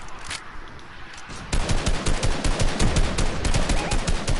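Automated turret in a video game firing, a continuous rapid rattle of closely spaced shots that starts scattered and then intensifies into a loud, steady stream.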